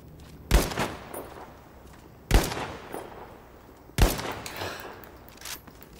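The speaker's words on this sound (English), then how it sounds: "Getting shot at." Gunfire in the Battlefield V Firestorm battle royale game: three sharp, loud bursts of shots spaced a couple of seconds apart, each trailing off into echoing rattle, with no talking.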